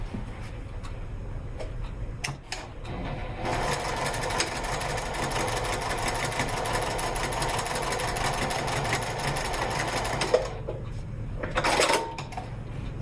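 A sewing machine stitches the front panel of an All Aboard wallet to its side seam, a quiet steady run of about seven seconds set between faint clicks and handling sounds.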